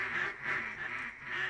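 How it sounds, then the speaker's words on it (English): Ducks, mallards or gadwalls, quack in a rhythmic run of raspy calls repeating about every half second, moderately close and fairly faint, no talk. "There's nothing better than watching ducks flutter down through the trees"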